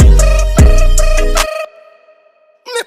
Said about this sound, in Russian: Там где-то звонит телефон.